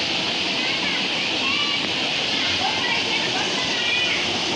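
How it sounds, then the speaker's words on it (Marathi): Water rushes steadily through a village irrigation channel in rural Konkan, a dense, continuous wash of flowing water heard up close with no pauses throughout. "आणि फ्लो बघा पाण्याचा"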